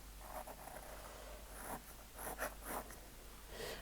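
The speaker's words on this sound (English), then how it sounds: "I'm just sketching my way through." A pen sketches a clock tower in ink on watercolor journal paper, making faint, close scratchy strokes in short irregular bursts over a quiet background hum.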